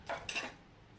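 Table cutlery is set down beside a folded napkin, giving two quick, faint metallic clinks close by within a quiet room, with no voices.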